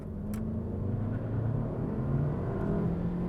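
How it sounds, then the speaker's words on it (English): A 2024 Honda Civic or Mazda3 in sport mode pulls away without brake boost, its engine a steady, loud rumbling drone that holds throughout with little rise in pitch. "I want you to do a non-brake boost launch first, just so you can see how bad it actually is"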